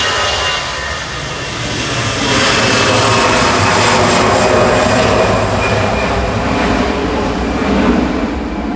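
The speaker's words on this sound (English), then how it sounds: "EasyJet departing to Kalamata" An EasyJet A320 airliner departing Manchester Airport, a loud, sustained jet engine roar rising and holding steady as it passes close by, with no voices.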